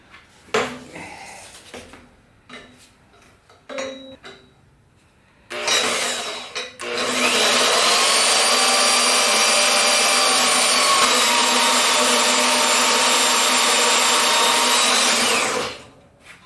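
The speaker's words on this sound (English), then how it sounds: "So I'm going to cut that with the bandsaw" Handling and clanks of metal stock come first, then a bandsaw starts up and cuts continuously for about nine seconds, a loud, steady high-pitched whine with a ringing, grinding edge that stops abruptly.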